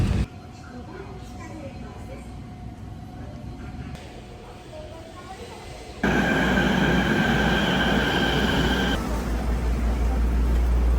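A subway train in a station in Fukuoka, Japan, rumbles and hums nearby, getting much louder midway as it pulls in, with a steady tonal whine from the carriages and a low roar, plus faint background voices.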